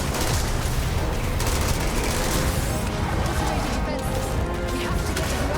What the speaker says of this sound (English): that explosion that keeps happening every couple minutes, it actually freezes you in your tracks